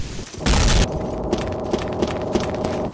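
A single loud, booming gunshot in the video game Day of Defeat: Source bursts out, followed by a rumbling tail and scattered fainter clicks and thuds.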